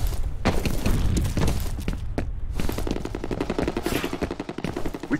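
Gunfire and a grenade blast in a F.E.A.R. Combat multiplayer match: dense, continuous rattling shots with sharp broadband bursts, a loud thump near the start and another around two seconds, all steady and close.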